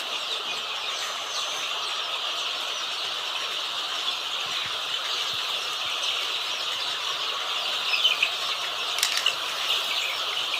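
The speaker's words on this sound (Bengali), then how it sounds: "অনেক চিল্লাচিল্লি মুরগির আওয়াজ" A crowd of chickens, chicks and adult hens, at a poultry farm clucks and squawks continuously in the background on a winter morning, a busy, fairly distant din with occasional sharper squeals near the end.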